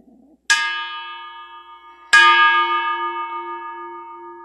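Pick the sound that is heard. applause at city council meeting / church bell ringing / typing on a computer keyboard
church bell ringing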